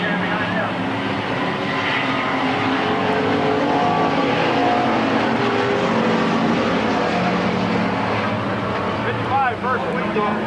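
Stock cars roar around the oval at Midvale Speedway during the 1995 Fall Classic, a dense, continuous engine drone filling the air while an announcer talks over it.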